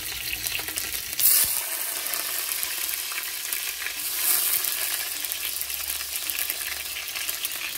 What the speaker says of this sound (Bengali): আলু ভাজা এই সাইডে বসিয়ে দিলাম, আর এই সাইডে মাংসটা বসিয়ে দেব